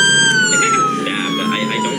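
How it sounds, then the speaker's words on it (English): Ambulance siren in the Roblox video game, a loud, continuous wailing tone that slowly falls in pitch throughout, close by, with voices talking underneath. "The ambulance is here."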